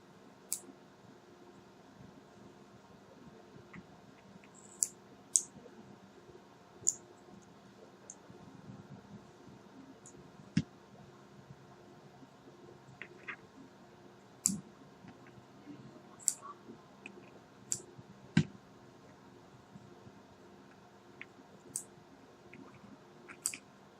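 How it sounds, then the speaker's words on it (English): Faint scattered clicks and small snips from trimming excess silica wick on a rebuildable coil, a dozen or so sharp ticks spread irregularly over a low quiet background. "now I'm just going to trim off the excess silica"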